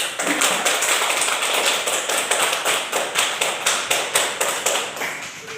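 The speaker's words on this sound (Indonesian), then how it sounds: "Jadi baik, tepuk tangan dulu." A school class claps hands together in a rhythmic group clap, a quick, steady run of sharp slaps, loud and close, with no talking over it.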